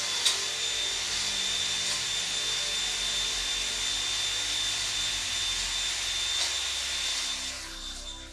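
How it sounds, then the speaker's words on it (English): A power drill spins a cylinder hone inside a small block Chevy engine bore, producing a steady high whine with a grinding, scraping texture that runs continuously at medium speed, close and fairly loud. "Now your drill is going to be set on medium speed, and you're going to quickly go up and down."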